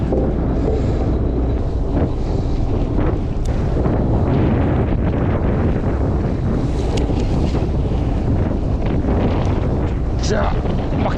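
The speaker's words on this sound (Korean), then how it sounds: "오 바람" Strong wind buffeting the microphone out on the ice during winter ice fishing, a loud continuous roar filling the whole stretch, with brief voices under it.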